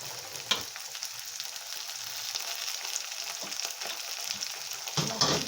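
Green peas frying with tomato in a pan for chili paneer, a continuous close hiss of sizzling oil with soft stirring scrapes and a couple of sharper clicks from the spoon.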